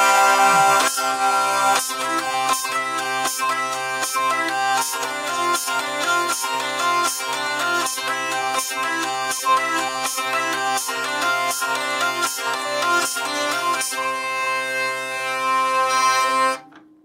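Altarwind hurdy gurdy drones and plays a melody in steady triplets, with a sharp trompette buzz striking on the first beat of each group, loud and close, ending with a final held note.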